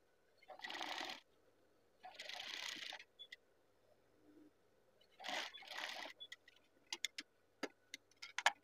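Sewing machine stitching the collar of a hand-drawn Pekalongan batik shirt, two short whirring runs, a pause, then two more bursts followed by scattered sharp clicks and ticks, quiet and close.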